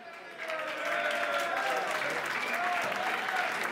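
A crowd at an outdoor rap protest concert in Vallecas, Madrid, breaks into applause that swells quickly and stays steady, with a voice talking over the clapping.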